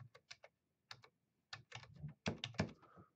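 Someone types a search keyword on a computer keyboard in short clusters of crisp, close key clicks with brief pauses between them, in a quiet room.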